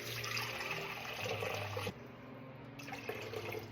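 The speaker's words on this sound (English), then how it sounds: "first I'm going to add, 700 grams of this lukewarm tap water between 90 and 95 degrees Fahrenheit" Lukewarm tap water pours into a bowl for sourdough bread, a steady splashing stream that stops abruptly partway, followed by quieter trickles and drips.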